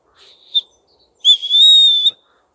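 Emergency whistle built into a Leatherman Signal multi-tool blown close up: a short faint toot and a quick chirp, then a loud, shrill sustained blast of under a second, with nothing else around.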